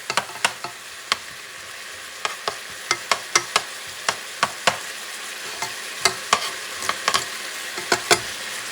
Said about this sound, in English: add about 3 or 4 teeth of garlic minced. Move it around so it doesn't burn.